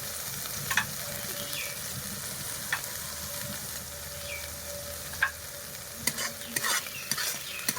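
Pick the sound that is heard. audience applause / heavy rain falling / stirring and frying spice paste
stirring and frying spice paste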